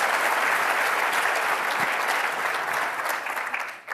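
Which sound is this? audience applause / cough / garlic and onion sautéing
audience applause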